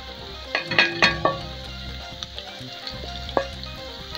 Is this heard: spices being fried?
yes